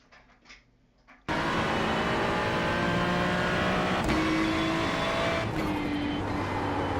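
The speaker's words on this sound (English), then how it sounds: "But listen to the car, and the gears, I think, sound more realistic here." Race car engine in the iRacing sim at Le Mans, starting with a faint lead-in and then snapping into a loud, constant roar, with distinct gear-shift changes in pitch as it drives on.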